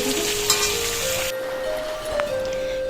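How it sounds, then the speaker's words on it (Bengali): Potatoes with ginger, garlic paste, spices and tomatoes sautéing in a pan, a soft steady sizzle with a faint stirring scrape and a light clink, close and without talk. "এবার একটু কষিয়ে নেব হালকা"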